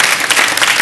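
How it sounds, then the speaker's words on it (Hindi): Loud studio audience applause on a Hindi TV game show, a brief burst of dense, close clapping. "ऑल द बेस्ट, जोरदार तालियां।"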